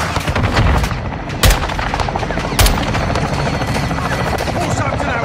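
Loud, dense battle din in Call of Duty Modern Warfare II: sustained gunfire and rumbling aircraft noise around an airstrike on a building, with two sharp blasts punching through the continuous roar.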